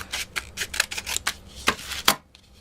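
Scissors cutting a cardboard toilet paper roll to shape a bow, a quick series of crisp close snips in an uneven rhythm, loud and alone.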